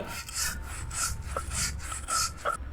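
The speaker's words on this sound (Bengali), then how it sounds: "ভেজে নেওয়া শুটকি মাছগুলোকেও এভাবে বেটে নিতে হবে" Fried dried fish is ground by hand on a grinding stone, rhythmic close rubbing strokes repeating about twice a second, with a gritty scraping texture throughout.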